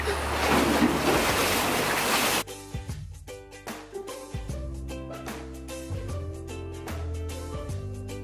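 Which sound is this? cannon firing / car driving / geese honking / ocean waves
ocean waves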